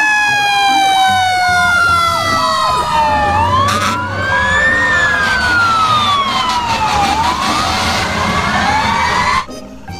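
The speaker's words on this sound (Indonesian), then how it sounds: "Di sini ada mobil pemadam kebakaran." A toy fire truck blares a loud, close electronic siren that wails in rising and falling sweeps, with overlapping tones layered over a rough, buzzy toy-speaker background until it stops abruptly near the end.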